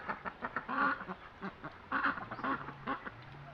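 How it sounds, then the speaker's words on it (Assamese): Ducks kept in a netted pond enclosure quack in a busy, overlapping cluster of calls at moderate distance, with a faint low hum underneath. "আমি নেটেদি ঘেৰাও কৰি ৰাখিছোঁ হাঁহবিলাক"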